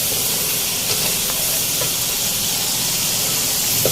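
Masala roasting in a pan sizzles steadily up close, a dense continuous hiss with faint crackles scattered through it, no one speaking.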